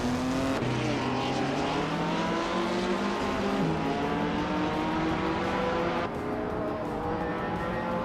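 Race cars roaring in a racing video game, several engines revving and shifting pitch together in a steady, loud drone that holds for the whole stretch with no talk.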